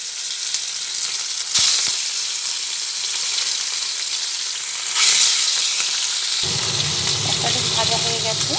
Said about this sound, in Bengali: এক এক করে মাছগুলো তেলের মধ্যে দিয়ে ভেজে নিচ্ছি